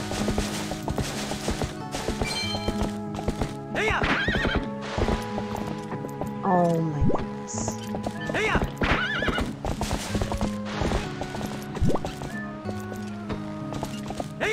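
Horses neigh and whinny repeatedly over steady clip-clop hoofbeats and layered game music in The Legend of Zelda: Twilight Princess, with a brief spoken exclamation partway through.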